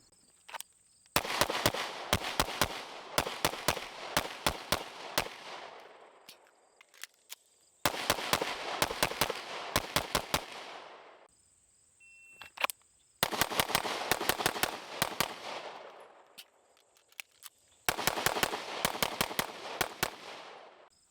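Dan Wesson DWX Compact pistol fired in four rapid strings of shots, sharp loud cracks with short splits between them and brief pauses between strings, echoing outdoors with no talking.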